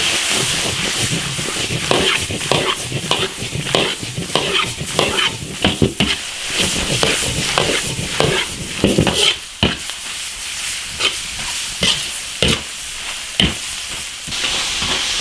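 Pig offal stir-fried in a large iron wok over a wood-fired rural stove, with loud continuous sizzling and rapid, repeated scraping strokes of the spatula close by.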